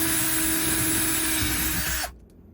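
A power drill bores into the interior trim of a Ford Maverick pickup, a steady loud whine and grind running for about two seconds before cutting off abruptly into near silence.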